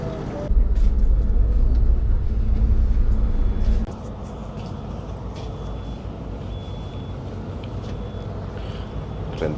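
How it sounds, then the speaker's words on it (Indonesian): A boat closing in on the vessel from which the sound is heard, a steady low engine rumble loud at first that drops to a quieter hum after a few seconds, with brief high tones over the top. "Ini kapalnya sudah mau mendekat kapal kami."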